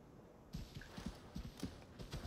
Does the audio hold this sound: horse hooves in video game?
yes